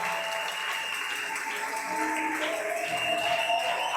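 Church congregation applauding the choir, steady sustained applause with some cheering, moderately loud and continuous.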